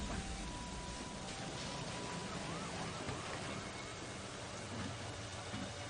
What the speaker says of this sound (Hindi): ये बारिश को भी अभी होना था।